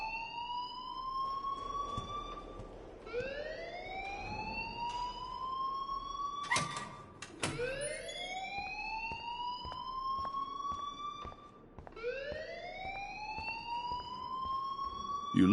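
Repeating rising electronic alarm wails sweep up over and over in a video game, loud and steady across the whole stretch, with a brief burst of clatter partway through and no talking.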